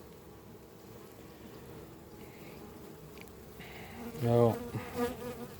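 Honeybees buzz around opened hive colonies during an apiary inspection, a continuous close drone that swells into louder passing buzzes near the end, with a brief word spoken.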